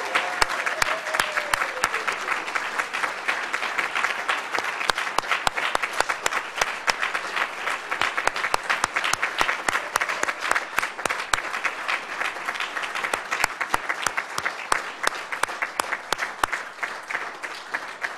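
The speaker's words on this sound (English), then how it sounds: "Graduates, would you please join in a final hearty round of applause for those that have been so loyally supporting you" A large audience at a university graduation ceremony applauds steadily, with dense, sustained clapping that keeps a fairly even level throughout and no speech over it.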